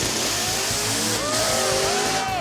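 A 1,600 horsepower drag racing car does a burnout, and its engine roars loud and continuous. Rising and falling revving pitches run throughout.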